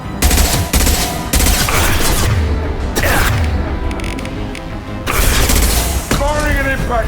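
Impact shot gunfire in the Mass Effect 2 video game: loud, dense bursts of shots and mechanical clatter over a continuous battle din, with several sharp onsets and a few quieter gaps.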